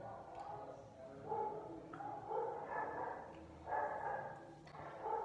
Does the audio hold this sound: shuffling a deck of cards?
no